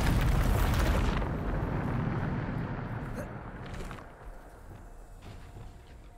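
A Bombarda blast spell in Hogwarts Legacy goes off as a loud, broadband explosive boom in the first second, then a long rumbling roar slowly fades over several seconds.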